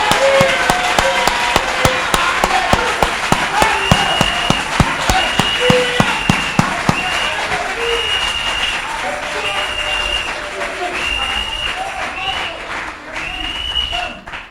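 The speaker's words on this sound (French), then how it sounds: "Acclamons pour Jésus." A church congregation claps in a steady, rhythmic beat, loud and close, mixed with voices calling out and singing. The sharp clap pulses are strongest early on and then blend into the crowd noise.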